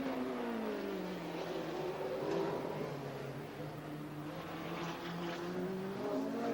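Trans Am race cars at Mosport in 1992 roar steadily around the circuit, overlapping engine notes rising and falling as cars pass at a distance, continuous without a break.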